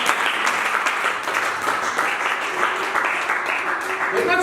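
Church congregation applauding and cheering in acclaim of Jesus during a sermon, a steady, dense wash of clapping that holds for several seconds with a few voices calling out beneath it.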